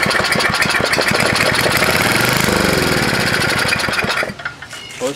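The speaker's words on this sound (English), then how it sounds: "I'd bet the house on it that this is going to start, or sputter, anyway." A rusty vintage snowblower engine runs at full speed, a loud rapid knocking putter close by, then cuts out and sputters down to quiet near the end.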